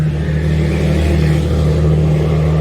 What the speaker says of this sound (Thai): ลั่นดีท่อ